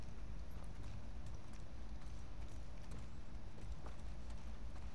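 Horse hooves clip-clopping in The Last of Us Part II, a quiet run of steady footfalls on a continuous low rumbling ambience with faint wind.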